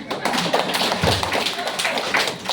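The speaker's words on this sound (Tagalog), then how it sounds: "Sige, subukan yung pumalakpak." A group of people claps their hands in a dense, continuous patter at a coaching session, brisk and close, filling the whole moment.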